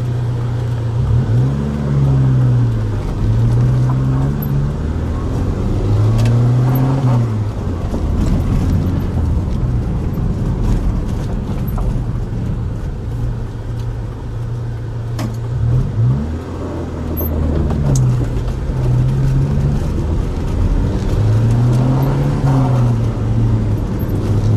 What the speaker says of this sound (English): There's a lot of road noise, but this car does have a lot of power